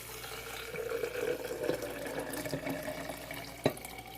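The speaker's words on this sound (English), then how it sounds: "Pour my water." Hot water pours steadily into a French press coffee maker over the grounds, a soft close trickle with a brief clink near the end.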